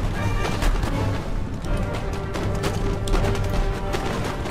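Musket volleys in Empire: Total War, with dense crackling gunfire and booming reports layered loudly over a continuous battlefield din, with no clear pauses.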